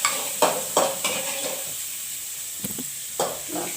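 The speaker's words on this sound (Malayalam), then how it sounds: "വറുത്തുകൊണ്ടിരിക്കുകയാണ് ഞാൻ." Beetroot and onion stir-fried in a pan for a simple upperi, with soft sizzling beneath repeated scraping strokes of a spoon against the pan, close and fairly quiet.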